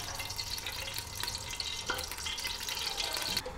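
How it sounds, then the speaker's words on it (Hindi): Bay leaves, cloves, black pepper and fenugreek seeds crackle and sizzle faintly in hot oil, a soft steady frying hiss with small pops and a brief clink, nearby and without speech. "इन मसालों को मैं ऑयल में फ्राई कर लूँगी।"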